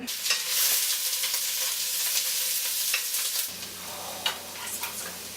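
Onions sautéing in a pan for marinara, a close, continuous sizzle with scraping stir noises that drops a little quieter partway through, with no talk over it.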